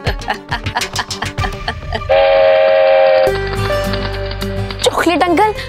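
A toy chocolate train in a children's fantasy TV series sounds a long, loud, steady whistle, held for a few seconds after speech, then shorter tonal bursts.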